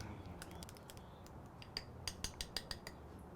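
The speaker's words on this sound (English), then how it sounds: "Let's get this stirred up." A spoon stirs maple garlic mayo in a bowl, giving quiet scraping followed by a run of light, evenly spaced clinks of metal against the bowl.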